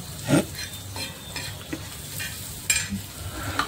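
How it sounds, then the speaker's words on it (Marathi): Hot oil sizzles and crackles as tempering spices hit the pan, with turmeric and salt for pithla, with a few sharp spitting bursts and light clinks of a utensil. "आता मी हळद मीठ टाकणार आहे आणि मग फोडणी देणार आहे"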